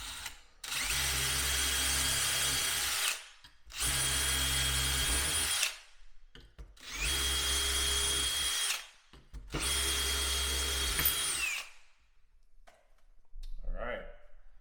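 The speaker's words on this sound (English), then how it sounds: "And then drill this right here." A power drill bores holes for cabinet hardware through a drilling jig, running in four loud, sustained bursts of about two to three seconds each with short pauses between, then stopping near the end as faint handling sounds follow.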